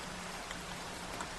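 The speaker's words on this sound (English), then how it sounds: "Oh, it's raining." Steady hiss of rain falling in the Minecraft video game, an even patter with no pauses over a brief stretch.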